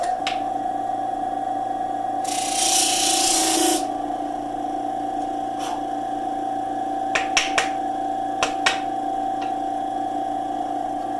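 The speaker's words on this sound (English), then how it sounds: "I'm going to go over to my disc sander." A disc sander hums steadily as a pistachio shell pen blank on a sled is pressed against it, giving a brief harsh grinding burst midway, then several sharp small clicks over the continuing motor whine.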